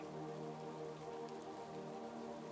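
Steady rain falls in an even, soft hiss with a faint sustained tonal drone beneath, unbroken and calm throughout.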